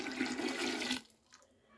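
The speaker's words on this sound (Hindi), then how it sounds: "और अब इसमें थोड़ा सा पानी ऐड करेंगे।" Water poured into mixed Punjabi-style dal in a pot, a loud steady gush lasting about a second that stops abruptly, followed by quiet.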